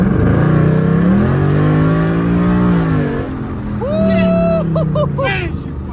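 A rebuilt, previously wrecked Ford Mustang with one side lowered revs hard and accelerates, its engine note rising and falling in close, loud sweeps while people talk over it.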